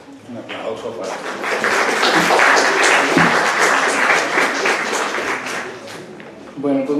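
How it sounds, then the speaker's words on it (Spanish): Audience applause welcoming a guest chemist speaker at a pharmacology session, a dense sustained roll of clapping that swells and holds for several seconds, fairly loud, with a voice starting to speak at the end. "Un aplauso para..."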